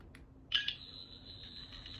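Sonic screwdriver toy from the 14th Doctor edition giving a short electronic beep, then a thin sustained high-pitched whine that carries on quietly, close up with no voices.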